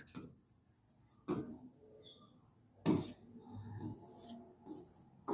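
Pen or marker writing out an English example sentence, heard as short scratchy bursts separated by quiet gaps, with a soft voice faintly present.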